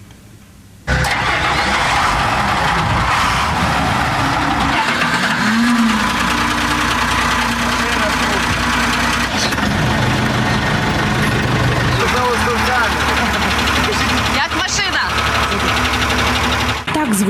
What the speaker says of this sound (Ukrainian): Мотори заведені, водії задоволені.